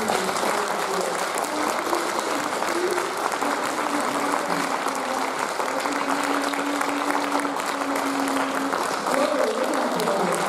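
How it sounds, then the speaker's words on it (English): An audience gives sustained applause after an orchestra introduction, a dense even wash of clapping lasting throughout with light crowd murmur and a few voices beneath. "So let's give them a big round of applause."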